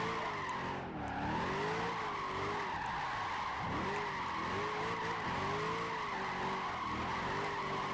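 Ford Mustang GT tires screeching in a sustained, wavering squeal while drifting through a corner in Gran Turismo 5, with the engine droning loudly underneath and no talking.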